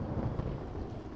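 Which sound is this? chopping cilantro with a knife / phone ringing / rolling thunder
rolling thunder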